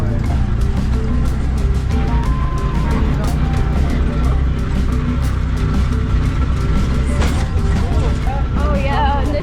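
A tuk-tuk drives over bumpy countryside roads in Cambodia, its loud, constant engine rumble and rattling jolts filling the whole stretch, with voices heard now and then.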